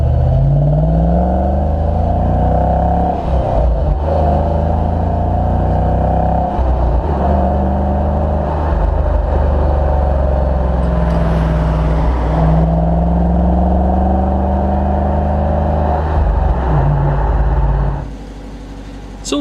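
A 2015 Dodge Challenger R/T V8 idles with a deep, throaty rumble from its performance-tuned dual exhaust, holding steady and close for most of the clip, then dropping off near the end.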